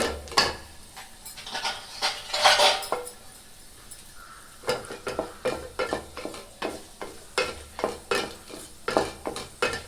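Cashews fry in ghee in a pan for rava kesari while a spoon stirs them steadily. Rhythmic scraping and metallic clinks ride over a soft sizzle, close up, with no voices.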